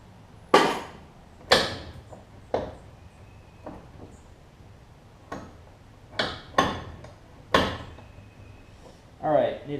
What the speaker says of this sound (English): Take this screw out.